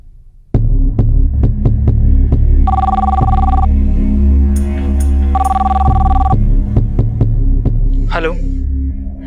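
A telephone rings in two long electronic bursts over a throbbing, pulsing hum, with a brief voice near the end.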